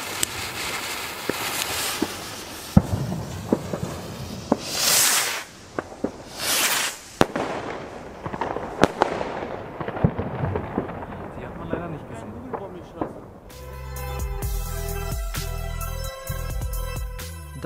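Xplode Powercrafter XPE 2710 rockets, 11 grams net explosive each, launch and burst outdoors in a rapid, irregular series of loud cracks and booms. A dense crackling volley near the end leaves a lingering rumble.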